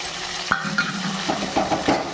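Chana dal, mustard seeds, cumin and curry leaves fry in a pan for a tempering, giving a steady close sizzle broken by a few spoon scrapes and light metallic taps.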